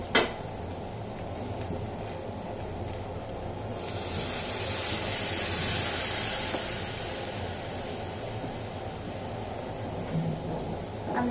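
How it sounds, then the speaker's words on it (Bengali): Water poured into a pan of frying dried fish for a Cox's Bazar hotel-style shutki bhuna, setting off a sudden loud sizzling hiss that swells, then settles into a steady bubbling simmer. "আমি কিন্তু এখন পানি দিয়ে দেব।"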